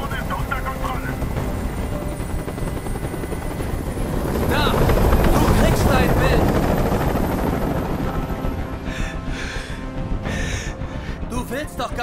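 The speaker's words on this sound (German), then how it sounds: "Ich halte diesen Krach nicht mehr aus. Dieser Helikopter soll verschwinden." A helicopter's heavy, steady rotor drone in the game Detroit: Become Human fills the scene, swelling louder midway, with breathy voices and gasps heard over it.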